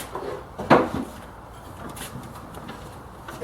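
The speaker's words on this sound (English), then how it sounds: "I remove the drawer" A wooden drawer is pulled out of a mitre saw stand, giving a single sharp wooden knock and short scrape, followed by quiet room noise.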